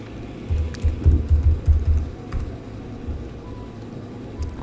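Someone types a name on a computer keyboard, a quick burst of soft clustered keystrokes over about a second, then quieter scattered taps against faint room hum.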